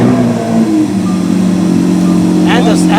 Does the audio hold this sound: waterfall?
no